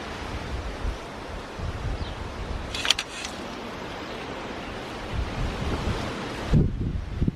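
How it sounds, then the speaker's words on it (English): Strong wind gusting through a garden, a steady loud rush buffeting the microphone with swelling and easing gusts, a brief rustle partway through and no voices. "Quite a bit of wind up there,"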